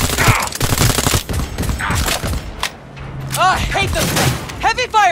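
Heavy, rapid gunfire in Cyberpunk 2077, close and loud, with dense volleys of shots, a brief lull and mechanical whines, while voices talk over parts of it.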